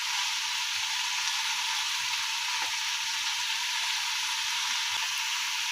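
Vegetables such as potato, drumsticks, pumpkin and papaya fry in hot oil for a mixed vegetable curry, giving a continuous, even sizzle that stays close and loud, broken only by a couple of faint knocks.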